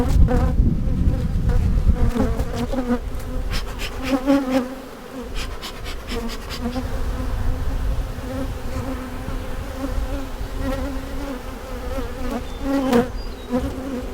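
Honeybees buzz loudly and continuously while being put into a shaker box during a hive split, a dense close swarm drone with occasional higher whines of individual bees flying near.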